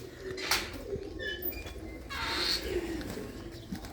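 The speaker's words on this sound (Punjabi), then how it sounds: "ਕਾਫੀ ਕਬੂਤਰ ਨੇ" Pigeons coo softly inside a netted loft, a few low rolling calls rising and fading at moderate distance against a faint background hum.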